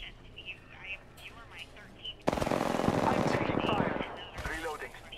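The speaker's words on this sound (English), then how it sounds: "I'm taking fire." Rapid automatic gunfire from a first-person shooter match in Apex Legends, loud and sustained for a couple of seconds after quieter background noise, with players talking over it.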